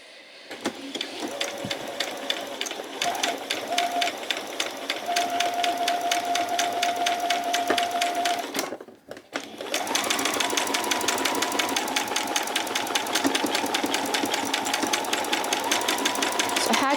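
A sewing machine stitches a buttonhole on a spring apron, a fast steady mechanical whir with rapid needle ticks running continuously, pausing briefly in the middle before resuming at the same close, even pace.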